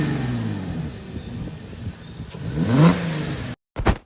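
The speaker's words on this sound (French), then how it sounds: "on retrouve le bruit particulier donc des moteurs VR6" A Volkswagen VR6 engine in a Porsche Cayenne idles with a low throb, then revs up sharply before a brief cutoff and a final quick blip of the throttle.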